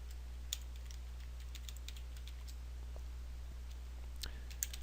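Light, scattered keystrokes on a computer keyboard, soft quick taps in loose bursts over a steady low electrical hum, with no talking.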